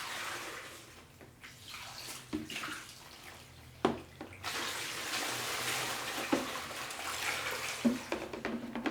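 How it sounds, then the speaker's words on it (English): Water poured over a Singer 500 sewing machine during a bath-style clean, with a soft splashing, running flow in several pours, broken by brief knocks and louder spills close by. "and I'll pour the water"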